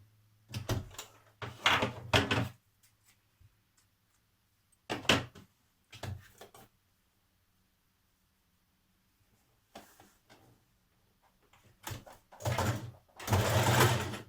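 A home sewing machine stitches a sweatshirt seam and back tacks, with several close rattling bursts of rapid needle motor whirring separated by quiet pauses, the final runs longer and louder.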